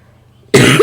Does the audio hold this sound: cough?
yes